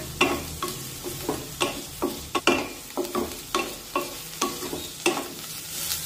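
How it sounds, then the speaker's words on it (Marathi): Chopped onion and two green chillies sauté in a pan, stirred with a spatula in regular scraping strokes over a soft, continuous sizzle, heard up close with no talking. "कांदा परतत असताना यामध्ये 2 हिरव्या मिरच्या सुद्धा टाकून घेऊया आणि मिरच्या सुद्धा यामध्ये परतून घेऊया."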